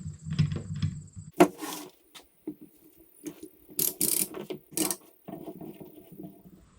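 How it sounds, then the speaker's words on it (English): Large woodworking bar clamps are cinched down on a workpiece, giving a series of close, irregular clicking and ratcheting bursts with short pauses between them. "Now some of you might be wondering why I'm using such big clamps"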